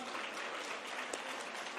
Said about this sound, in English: can y'all give our amazing, massive ceremony a round of applause?